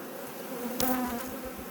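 Honeybee colony being moved into a new box, a close steady buzzing hum with a brief louder burst of wingbeat noise near the middle.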